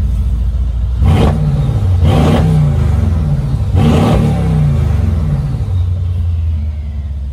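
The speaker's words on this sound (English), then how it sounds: "get the car a few revs." A deep 5.5-litre V8 engine in a Mercedes-AMG GLE 63 S revs three times in sharp bursts, each swelling and dropping back to a rumbling idle, with a whooshing turbo note, loud and close.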